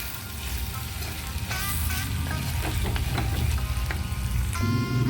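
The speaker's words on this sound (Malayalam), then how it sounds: "ഇനി ഇത് നന്നായിട്ടൊന്ന് മിക്സ് ചെയ്ത് കൊടുത്ത്" Green banana thoran fries in a pan with mustard seed tempering while being stirred, giving a steady close sizzle with scraping stir sounds and a low background rumble.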